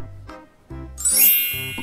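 A school bell gives a bright, ringing ding that sustains and slowly fades, preceded by a few short, soft tonal notes.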